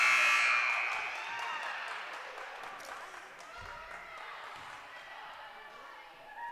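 Loud electronic game-ending buzzer sounds at the start of a high school girls basketball game between Centerburg and East Knox, fading into crowd noise and gym clatter, with a commentator talking.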